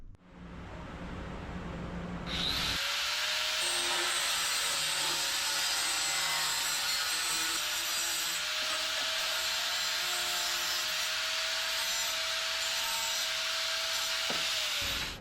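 A loud power tool nicknamed Old Yeller cuts off a part on a hot rod mini truck, starting after a short pause and then running as a steady, continuous high whine and grind up close, with no talk.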